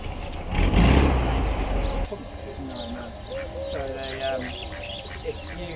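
A duck quacks several times at an outdoor car gathering, the calls nasal and moderately close, following a loud vehicle rumble and mixed with background chatter.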